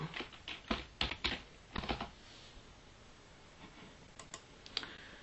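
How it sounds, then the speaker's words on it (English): Someone types on a computer keyboard in a few quick clusters of close key clicks, separated by pauses. The tapping is quiet over a faint steady background hiss. "let's type in hello"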